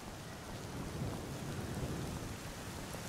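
Steady rain hiss with a low rumble of thunder underneath, from a storm in the video game Skyrim, a constant soft wash of noise that stays even throughout.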